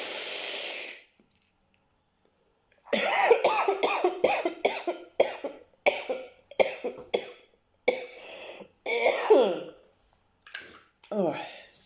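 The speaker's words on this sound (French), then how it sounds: "ça a le don de me faire tousser à mort." After a breathy blow into a breathalyzer, a person breaks into a long run of harsh, close coughs. Roughly a dozen hacking bursts come in irregular clusters, some with strained throat sounds between them.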